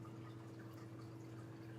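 Indoor water fountain running in a radio studio, a faint steady trickle and splash over a low electrical hum, with no voices.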